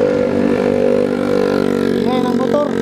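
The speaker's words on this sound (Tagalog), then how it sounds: "ingay ng motor" Motorcycle engine idling steadily beside a road near a Shell station, a continuous loud drone with a faint chirp of other traffic near the end.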